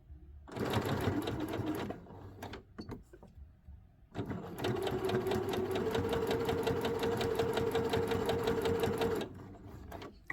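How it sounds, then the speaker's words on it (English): A sewing machine stitches welted pocket fabric in two runs, a short burst and then a longer steady stretch of rapid, even needle clatter, close and clear, with a few small clicks between them. "Lift up my presser foot, pivot my fabric, turn it, and then continue stitching."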